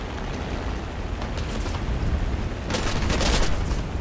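Enemy aircraft guns fire in War Thunder during a dogfight with a stalled J1N1. Rattling bursts of fire cut through a constant roar of engine and wind, with the heaviest volley near the end.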